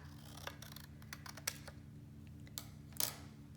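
Scissors snip through paper for a tessellated collage, a few quick crisp cuts spaced irregularly over faint background hiss, close and fairly quiet.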